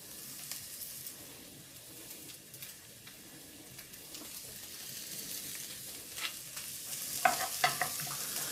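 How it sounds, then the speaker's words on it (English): Onions frying toward brown for a French Canadian tourtière meat pie, a low steady sizzle with scattered stirring scrapes that grow louder and clatter near the end, no voices. "I'm going to start the onions first, just because I would like them to be a little more brown"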